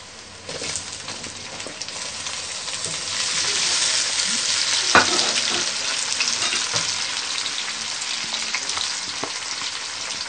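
Onions and tomatoes frying in a pan for karela sabzi, a steady close sizzle with light crackles and an occasional stirring clink throughout.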